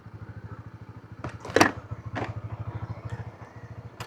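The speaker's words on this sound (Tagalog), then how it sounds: "maingay kasi masyadong maingay yung sasakyan eh" A Honda CB150X motorcycle engine runs steadily while riding, a low, even, pulsing drone throughout with a few brief sharper noises over it.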